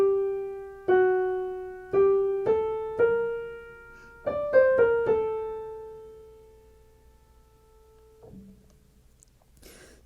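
An altered hybrid fugue subject from Bach's Art of the Fugue, played as a single melodic line of about ten clear, struck notes, each decaying; the final note rings out and fades to quiet.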